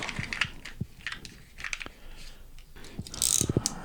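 A little spatula stirs a few drops of epoxy, giving close, irregular scraping clicks and ticks in short bursts with quiet gaps between them.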